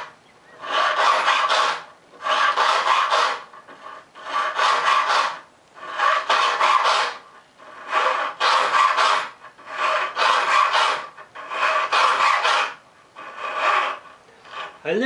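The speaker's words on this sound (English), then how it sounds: "I'm going to keep filing." Metal file rasping across the teeth of a cheap tenon saw, eight long, loud strokes of about a second each with short pauses between, close and steady, with no talking.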